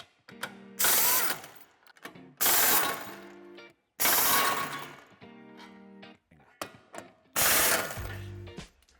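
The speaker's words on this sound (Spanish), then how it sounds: "Ahora nos falta quitar el refuerzo metálico que va sujeto con 3 tornillos en este lado y 4 en el otro." A ratchet backs out the screws holding a metal bumper reinforcement bar on a Volkswagen Passat Variant, with four loud bursts of rapid clicking separated by short pauses, close up and with no talk.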